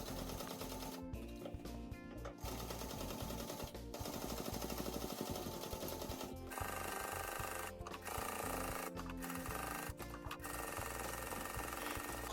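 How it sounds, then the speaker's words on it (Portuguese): A sewing machine stitches fabric along the bottom and around a small gift piece in a quick Christmas sewing project, a close, continuous rapid mechanical whir broken by several brief pauses, with no voices. "na máquina comece a costura na parte de baixo"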